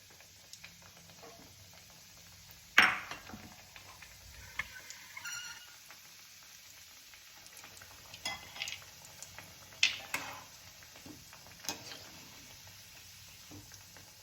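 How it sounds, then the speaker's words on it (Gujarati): Muthiya frying slowly in hot ghee over low heat, with soft sizzling broken by occasional sharp clinks of a utensil against the pan. "આ મુઠિયા હવે તળાઈ ગયા છે."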